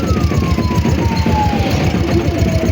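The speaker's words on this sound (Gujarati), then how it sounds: "એમ્બ્યુલન્સ જાય છે." An ambulance siren wails as it passes on the road, its pitch sliding steadily downward, heard faintly from a moving vehicle whose loud, throbbing engine rumble dominates throughout.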